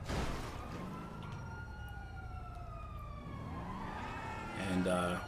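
A police siren in the GTA V video game wails in slow rising and falling sweeps at moderate distance, fading slightly mid-clip before returning closer, with a brief extra tonal blip near the end.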